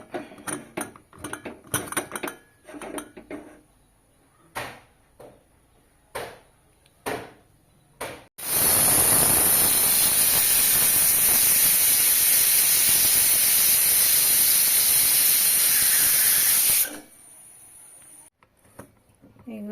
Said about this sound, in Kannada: ಎರಡರಿಂದ ಮೂರು ವಿಜಿಲ್ ಆದರೆ ಸಾಕು